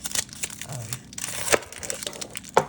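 Half an onion being cut on a board for ginger garlic lentils, giving a run of crisp crunching and crackling knife strokes at irregular intervals, close and moderately loud, with no talk.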